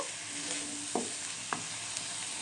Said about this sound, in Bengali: এরকম নাড়াচাড়া করে নেব।